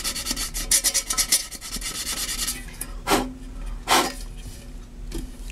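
Tin being roughened by hand before J B Weld is applied, a steady dry scraping rasp in fast repeated strokes, then a few slower, separate louder scrapes close by.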